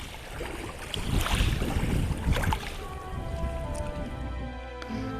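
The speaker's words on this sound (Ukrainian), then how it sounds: "море, яке сьогодні тут шумить, Дністровське море" Waves on the Dniester reservoir splash against the shore with gusts of wind buffeting the microphone, rising and falling in loudness, nearby and with no talking.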